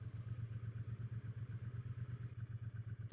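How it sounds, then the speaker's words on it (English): A Triumph Bonneville motorcycle on a Lake District road near Buttermere, its engine thumping in a steady, pulsing low rumble close by for a few seconds, with no voices over it. "Another Bonneville there."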